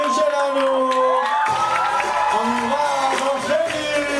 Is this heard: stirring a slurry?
no